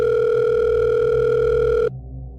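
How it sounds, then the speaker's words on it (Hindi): A phone rings as a steady, loud electronic tone that holds for about two seconds and then cuts off abruptly, leaving only a low background rumble. "कि पॉकेट में रखा उसका फ़ोन बज उठा।"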